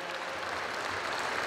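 Steady, continuous applause from an audience at a state police anniversary celebration, a dense even wash of clapping with no voices on top, filling the whole moment at moderate level.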